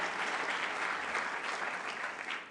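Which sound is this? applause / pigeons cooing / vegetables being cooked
applause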